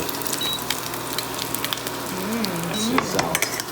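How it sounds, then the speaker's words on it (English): Steady crackling sizzle of schnitzel frying in a pan, close up, with a faint whistling tone and light clinks of utensils. "We're gonna let this keep frying."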